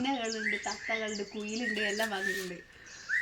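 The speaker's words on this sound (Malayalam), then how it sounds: "എന്തെല്ലോ പക്ഷികളെല്ലാം വന്നിട്ട്" Birds chirp and squawk repeatedly nearby in short, rising calls, while a voice talks underneath.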